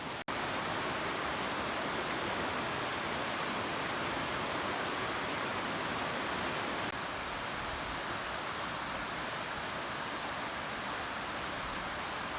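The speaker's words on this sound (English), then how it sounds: "So that's the creek I was hiking down along the top part of Bradley Fork." A mountain creek along the upper part of Bradley Fork in the Great Smoky Mountains flows with a steady, dense rushing wash that holds an even level throughout, close by and with no voices.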